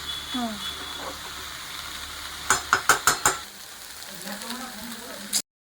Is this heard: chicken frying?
yes